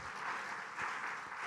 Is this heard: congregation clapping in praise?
yes